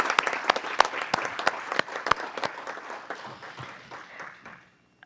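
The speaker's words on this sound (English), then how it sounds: "So let's all give ourselves a round of applause, I guess." A round of applause at a city council meeting, many hands clapping steadily for a few seconds before thinning out and stopping.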